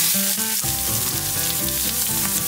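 Loud, steady sizzling of onions frying in a hot cast iron skillet, a dense crackling hiss with no talking.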